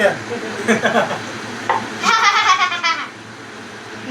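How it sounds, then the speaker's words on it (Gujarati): Parathas fry in oil in a pan, a steady close sizzle that swells briefly midway, with a little background talk. "આનપા તળાય છે જો"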